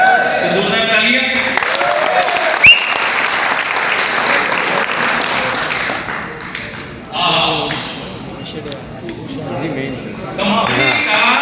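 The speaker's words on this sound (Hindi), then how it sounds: "तो जोरदार तालियां" Hearty applause from the audience at a Hindi-language company business update meeting, a loud burst of clapping that rises and falls in waves, with a voice speaking through parts of it.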